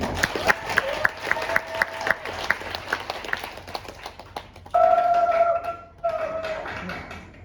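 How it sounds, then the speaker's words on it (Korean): Audience clapping at a hackathon final presentation session, a run of fairly sparse claps that fades out, followed by a sustained tonal hum. "박수 한번 칠까요, 여러분?"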